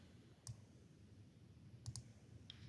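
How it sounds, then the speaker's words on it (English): Crisp computer mouse clicks during an online database search, a single click and then a quick double click, faint and close over a quiet room hum. "then we'll click on Advanced Search."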